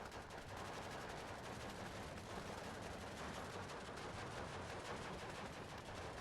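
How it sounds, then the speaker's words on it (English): Sustained machine-gun and rifle fire pours onto infantry squads in the WWII strategy game Steel Division II, a dense, continuous rattle of overlapping bursts at steady volume throughout, with no talk. "They're shooting at some infantry squads."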